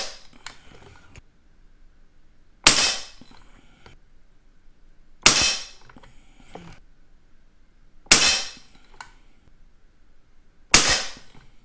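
An APX NXG air rifle fires H&N Finale Match pellets at 10 m, giving four sharp, loud, isolated cracks spaced about two and a half seconds apart, each followed by a short mechanical rattle, with no talking.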